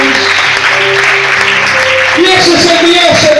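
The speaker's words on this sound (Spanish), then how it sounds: "Ese aplauso mejor para Jesús." A church congregation applauds during a sermon, a loud, dense burst of clapping with a preacher's voice speaking over it near the microphone.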